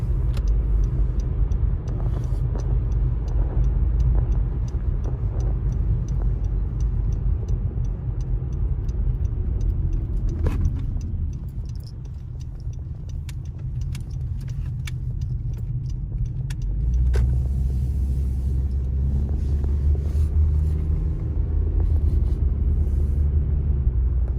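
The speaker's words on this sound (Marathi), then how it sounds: "क्रिसमस डेकोरेशन बघण्यासाठी लाईन लागलेली आहे गाड्यांची" Cars idling and creeping in a long queue to see Christmas decorations in the USA, a steady close engine rumble with faint ticks and small clicks throughout, swelling louder near the end.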